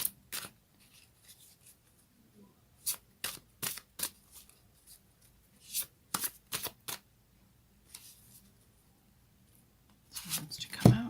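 A Fairy Tarot card deck is shuffled up close in short, crisp bursts of riffling and slapping cards, separated by quiet gaps, with faint rustling at the end.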